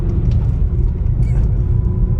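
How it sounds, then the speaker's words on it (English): A cheap Smart car on a test drive after a brake bleed, with faulty brakes, giving a loud, steady low engine and road rumble from inside the cabin. "Well, good news, the car's driving."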